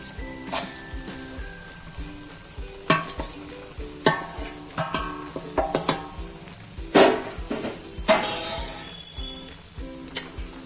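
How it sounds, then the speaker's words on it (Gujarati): Flour is stirred by hand into melted ghee in a pan for adadiya, a Gujarati sweet, producing irregular scraping and soft sizzling strokes close by, with occasional light clinks of the spoon. "આ રીતના પેલા સરસ મિક્સ કરી દેવાનું છે"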